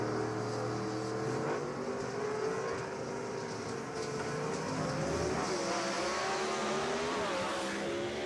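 A gasser drag race car at Jackson Dragway roars loud and continuous, the engine note rising and shifting as it revs through the run, with no speech over the sustained noise.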